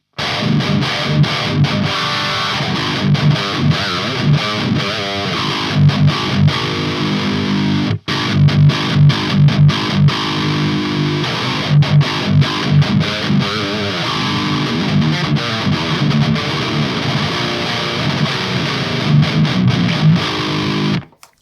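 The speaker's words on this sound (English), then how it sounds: "Now let's put the overdrive on." Overdriven electric guitar played through a Line 6 HX Effects unit into a Laney amp, loud and continuous with dense distorted chords and riffs, a brief cut near the middle, no talking.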